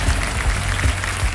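Dense, loud applause from a large studio audience at a TV quiz show, welcoming new contestants, steady clapping throughout with no talk.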